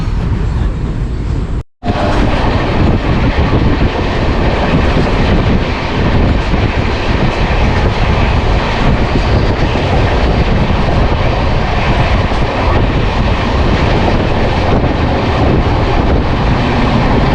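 The Saraighat Express from Howrah to Guwahati rumbles along after leaving Malda Town, a loud continuous roar of wheels and carriage noise filling the whole stretch with only a brief dropout near the start.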